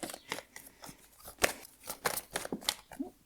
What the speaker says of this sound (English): I'm going to pull 3 final message cards for you from this Rider-Waite deck.